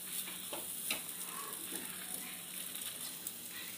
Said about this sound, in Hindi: हलवे को हम ऐसे ही चलाते रहेंगे जब तक कि ये कढ़ाई ना छोड़ दे